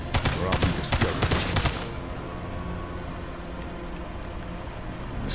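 Gunfire in Sniper Elite 5 rattles in a loud rapid burst at the player, then falls away into a quieter ambient wash with distant faint sounds.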